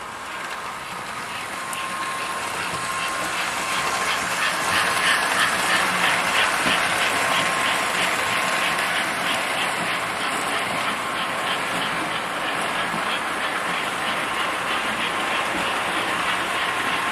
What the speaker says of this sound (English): It's got a DC can motor added by Earl Wagner